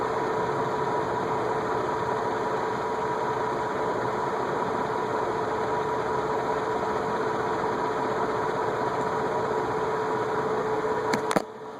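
A Venton VEC industrial/commercial ceiling fan runs steadily with a constant motor hum and airy whoosh, unchanging and close, with a brief click near the end.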